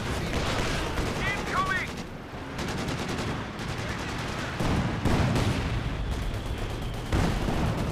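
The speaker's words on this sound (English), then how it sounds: "it is indeed going to be a Katyusha from Darkregion" Soviet Katyusha rocket artillery fires in the video game Company of Heroes 2 amid a busy battle din of booms, rolling gunfire and rising whooshes, with a voice talking faintly over the fighting.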